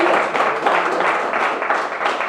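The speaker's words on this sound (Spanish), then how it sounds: "Denle ese aplauso al que me da vida." Church congregation applauding together, a dense, steady wash of clapping lasting about two seconds with no voices over it.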